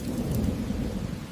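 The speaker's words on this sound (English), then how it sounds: "A life-giving rain begins to fall." Steady rain falls after a long drought, mixed with a low rolling rumble of thunder, a dense continuous wash of sound with no voices.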